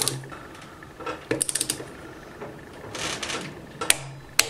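Quick ratchet clicks from a torque wrench tightening a screw to 12 Nm while rebuilding a Chinese scooter engine with a new crankshaft and oil pump: a tight burst of four close clicks, then a few sharper ones near the end, with no talking.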